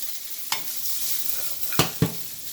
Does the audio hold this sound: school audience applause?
no